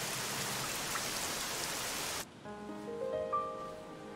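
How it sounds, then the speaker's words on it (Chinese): Heavy rain pours down as a dense, steady roar close by, then cuts off abruptly about halfway through, leaving a quieter background with faint tonal sounds. "下这么大雨"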